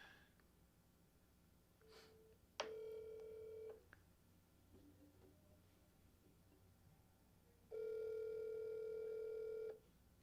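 Outgoing telephone call ringing on the line, two long steady ring tones separated by a pause of quiet, moderately loud with no talk.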